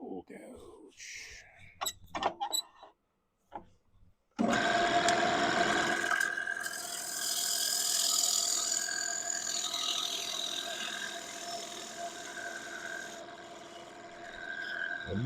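Wood spinning on a lathe as a bowl gouge cuts, a steady whirring scrape that starts abruptly after a few sparse knocks and clicks and holds for several seconds with a shifting high hiss.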